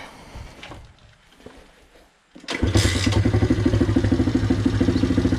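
A Loncin 110/125 motorcycle engine on a test before a turbo install cranks after a quiet stretch, catches, and settles into a loud, even, rapid idle with mechanical clatter, close up.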